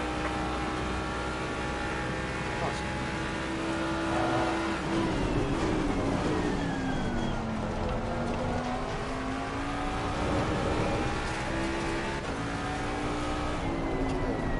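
A GT3 race car pulls out of the pit lane at Barcelona in a racing video game, its engine droning steadily with rising and falling pitch as it accelerates, loud and continuous throughout.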